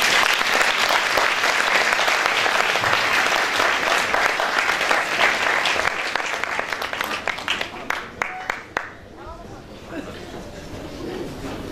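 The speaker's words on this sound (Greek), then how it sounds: "Ένα χειροκρότημα σε αυτά." Audience applause for children at a tutoring school's event, a dense, loud wash of many hands that thins into scattered individual claps over the last few seconds.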